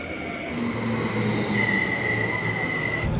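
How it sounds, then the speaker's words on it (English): A Swiss passenger train runs steadily, heard from inside the carriage, with a continuous rumbling roll and sustained high-pitched wheel squeal tones over it. "I'm on the next train now."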